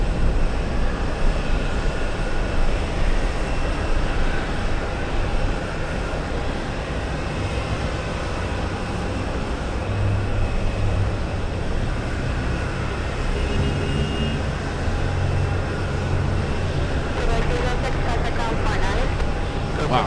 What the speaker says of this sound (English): Next heavy lands at 410. It's a Delta A380 flying in from Amsterdam.